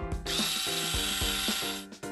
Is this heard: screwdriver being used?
yes